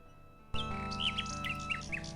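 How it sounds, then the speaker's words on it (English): A nightingale in the King's Quest VI game sings from a high tree branch: bright, rapid chirps and trilled phrases repeat over a steady game music backdrop that starts abruptly, close and clear, with no talking. "A nightingale perches on a high branch of the tree. She sings the most beautiful song Alexander has ever heard."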